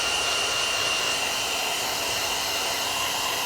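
A heat gun blows a continuous, even rush of hot air onto the rear badge of a 2026 Tesla Model Y Juniper, heard close up as a steady, loud whooshing hiss with no break throughout.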